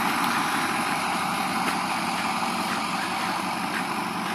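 A 1988 Blue Bird All American rear-engine school bus idles with a steady, even diesel rumble and a constant hum, close and fairly loud, with no talking.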